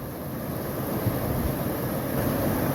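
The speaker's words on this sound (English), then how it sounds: "Silver Pass Creek." Silver Pass Creek, a mountain creek along the Pacific Crest Trail, rushes with a steady, close, broadband wash of flowing water that holds at an even level for the whole stretch, with no voices.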